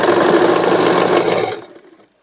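Close, loud sewing machine stitching through denim on a hoodie made from old jeans, a steady rapid whir for a second and a half before winding down to silence.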